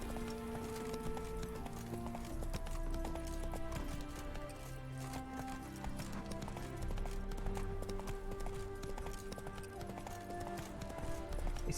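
A horse's hooves clip-clop at a steady pace in the video game The Witcher 3, quiet and rhythmic beneath continuous tonal background music.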